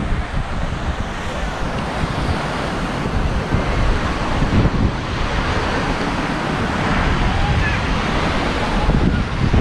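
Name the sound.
ocean waves at crowded Hapuna Beach, Hawaii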